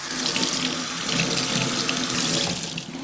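Steady tap water runs close and loud while a baby is rinsed during a bath, a continuous hissing splash with no talk.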